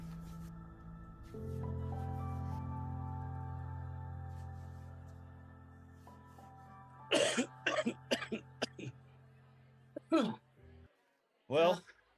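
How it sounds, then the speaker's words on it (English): A person coughs in several short harsh bursts, a cluster of quick coughs and then two more spaced apart, close and fairly loud over a sustained low musical drone. "you have a cough again."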